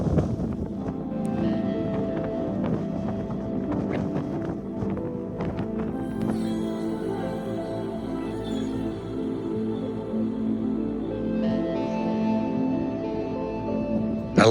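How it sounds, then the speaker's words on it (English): Strong wind buffets the microphone at Moon Overlook in the Utah desert, a continuous roaring rumble with gusty surges and scattered rustling hiss, loud and steady throughout with no voices. "It's super, super windy."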